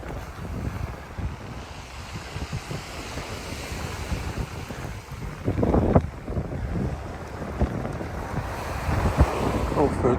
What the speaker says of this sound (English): listening to that lovely sound of the sea